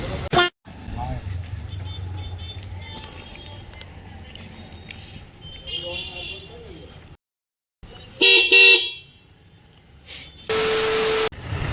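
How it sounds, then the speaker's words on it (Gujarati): A newly fitted car horn sounds in short, loud blasts, with a longer steady honk near the end, amid background talk and workshop noise. "તો ચાલો થઈ જાય પછી તમને સંભળાવું હોરન."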